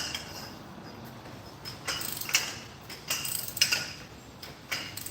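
Ratchet with a socket being worked on a mechanical job, giving bursts of quick, close clicking pawl strokes separated by short pauses, with no voices over it.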